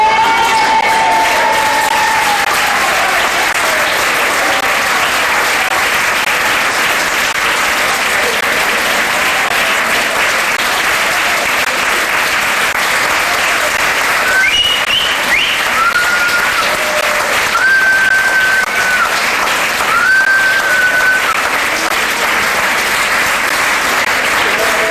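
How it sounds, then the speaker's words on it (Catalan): A theatre audience at an amateur drama showcase gives long, sustained applause, loud and dense throughout, with a few voices and faint whistles rising above the clapping. "Suposo que els hi de fer un altre aplaudiment."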